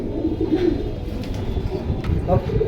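Pigeons coo softly in a bird collection, low throaty calls repeating under a steady murmur of background voices and surrounding noise.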